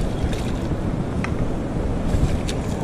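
Sea waves wash in on a beach with a broad, steady rush and wind buffeting the microphone, loud and close, with no voices.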